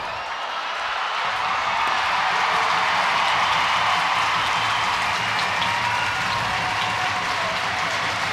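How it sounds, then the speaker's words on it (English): A packed ice hockey arena crowd applauding at a Sheffield Steelers versus Cardiff Devils game, with dense, sustained clapping that builds within the first second and carries on steadily and loudly to the end. "And Steelers all having a clap as well."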